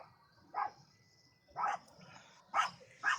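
Labradoodle puppies bark four times in short, sharp yips, spaced roughly a second apart and heard from a little distance over a quiet room hum, with no talking.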